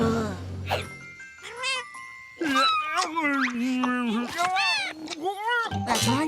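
Cartoon kittens meow repeatedly in high, wavering, sing-song cries, overlapping and fairly close, mixed with a voice and light chiming sounds.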